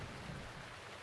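Steady rain from a thunderstorm in the video game The Legend of Zelda: Breath of the Wild, a continuous dense hiss of falling water with a low rumbling undertone, heard alone without talk.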